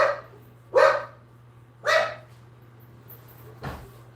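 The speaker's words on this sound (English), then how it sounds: "What the fuck is wrong with this dog?" A single dog barks loudly nearby, two sharp barks less than a second apart followed by a fainter third yelp, over a steady low electrical hum.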